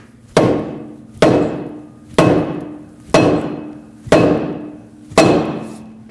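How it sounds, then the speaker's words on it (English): Six loud, evenly spaced hammer blows strike upward on the mounting nut of a front strut knuckle on a 2006-2015 Lexus IS250, each sharp metallic hit ringing briefly before the next, about one second apart. "so that you have a wider area to hammer on and then just hit upwards on the mounting nut"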